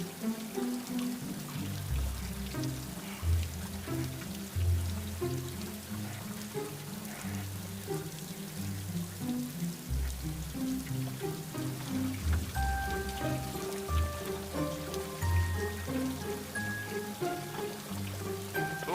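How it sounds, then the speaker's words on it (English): Steady rain falls throughout while traveling home during a storm, a dense, continuous patter and hiss on surfaces with low rumbling underneath, moderately loud and constant with no voices. "Yep, it is raining."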